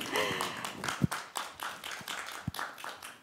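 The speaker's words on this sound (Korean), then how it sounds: "유미선 교수님, 조교님께 큰 박수 부탁드립니다" Applause from an audience at a university social welfare department orientation, honouring a professor and teaching assistants; a spread of sharp claps with a few louder individual hits, moderately near, no talk over it.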